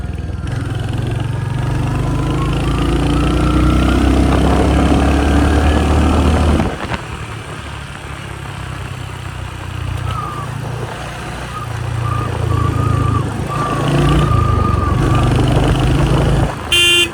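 A Royal Enfield Hunter 350 motorcycle on a night ride gives a loud, close engine drone that dips midway and then swells again, with short horn toots sounding from passing traffic.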